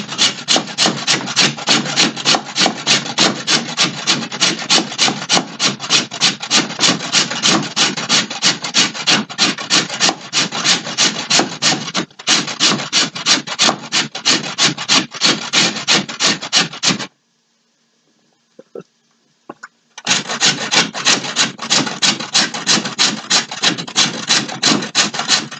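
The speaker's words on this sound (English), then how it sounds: "Here's my wonderful frozen ginger, and I'm grating it right into the container with the squash pieces." Frozen ginger rasps against a grater in a fast, steady scraping rhythm, close and loud, as it falls into a container of butternut squash pieces; the strokes stop briefly near the end, then resume.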